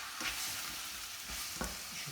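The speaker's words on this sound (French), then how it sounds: "Je continue à suer, à faire revenir le poisson. Les herbes là aussi, les tiges," Fish pieces and herb stems sweat in a pan for a fish stock, a soft steady sizzle with a couple of brief stirring scrapes, close and without talk.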